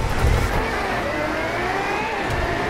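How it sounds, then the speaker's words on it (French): A Ferrari's engine roars in the racing game Driveclub, loud and close, with a sustained high whine whose pitch shifts as the car accelerates. "T'as la Ferrari a fait beaucoup de boucans, hein."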